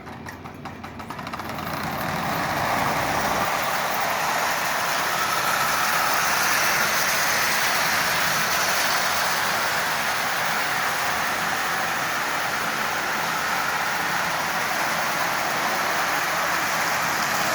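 A 1928 American Flyer Ives 3254 toy train fitted with a Marx 400 motor runs around its track with a steady, loud, continuous motor whir that starts softly and builds within a couple of seconds, then holds evenly throughout.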